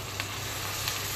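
Chopped potatoes with onions sizzling in hot oil, a steady close frying hiss with a couple of brief crackles.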